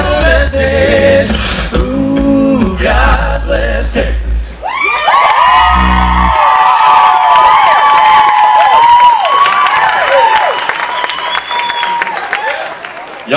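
A concert audience at a show in Kearney, Missouri cheers loudly and steadily, with whoops and yells over a rumbling crowd, while a voice sings or talks above it early on, then sustained high shouts carry through.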